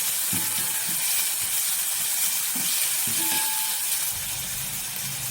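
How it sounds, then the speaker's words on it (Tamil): Onions saute in a pan for a moong dal gravy, making a steady close hiss of sizzling oil. Soft low thumps of stirring rise now and then beneath it, with no talk. "இந்த வெங்காயம் கொஞ்சம் வதங்கணும்"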